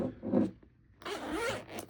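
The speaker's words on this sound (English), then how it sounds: "It's two zippers, one on each side" Two-way zipper on a CTactical CT5 waxed canvas bag, pulled in two quick strokes: a soft zip, a brief pause, then a longer rasping run, close and clear with no voices.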